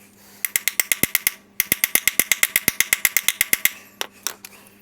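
Ratchet tightening a stubborn motorcycle fairing bolt: two quick runs of rhythmic metallic clicks, about a dozen each with a short pause between, then a couple of separate clicks, close and loud with no talk.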